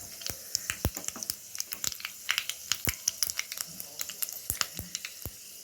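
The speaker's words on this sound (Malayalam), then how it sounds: "കടുക് പൊട്ടിച്ച്" Mustard seeds popping in hot oil for a tomato chutney tempering, heard as faint, sparse, sharp crackles and pops scattered irregularly over a low sizzle, with no talking.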